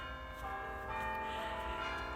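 A notification bell sound effect rings as a faint, sustained metallic chime with lingering tonal resonance.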